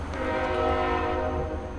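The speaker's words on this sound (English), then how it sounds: "let's apologize for the train in the background" A train rumbling past at a steady distance, its long horn-like tones and low mechanical drone holding constant behind the scene for the whole moment, with no one speaking.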